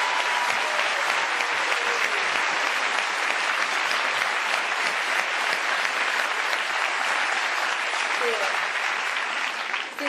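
Neighbours greet a new tenant at her apartment with dense, steady applause, many hands clapping loudly and without pause for about ten seconds.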